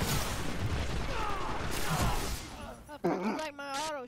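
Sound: auto shotgun firing in video game Destiny

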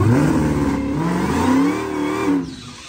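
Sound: car driving through the prep after a dry hop

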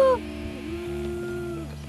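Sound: people imitating moose calls

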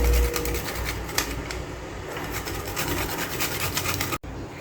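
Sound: grating nutmeg

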